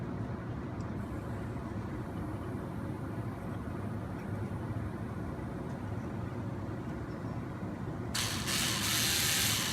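A screwdriver turns steady clicking screws into a bull bar on an RC 4x4 crawler car, with a continuous ratcheting whir and a brighter burst near the end.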